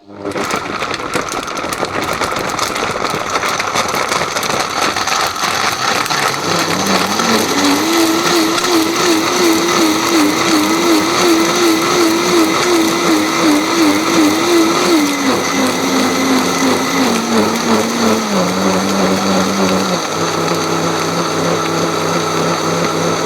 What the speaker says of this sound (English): Maybe I just need to say how I usually use my blender here.